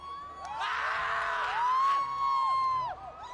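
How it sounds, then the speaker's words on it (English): An esports crowd at a Mobile Legends tournament cheers in a cheer-off, loud sustained whoops and shouts from many voices swelling and holding for about two seconds before easing off. "we're gonna settle this with a cheer off"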